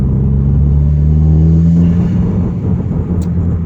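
A 2015 Subaru WRX with a K&N Typhoon intake revs close by, a loud low engine drone holding a steady pitch, then easing back slightly toward the end, no speech.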